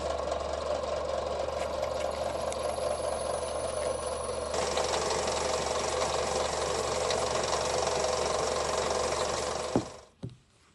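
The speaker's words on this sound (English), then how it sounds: "I do want to get over to the bandsaw and trim off these ears though first" A bandsaw cutting through tool steel, a loud continuous mechanical whir and grinding drone that changes tone partway through, then winds down and stops with a couple of closing clunks at the end.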